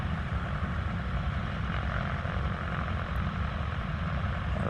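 A small propeller aircraft in Microsoft Flight Simulator 2024 flies on approach with flaps extending, its engine a steady, loud, continuous drone throughout.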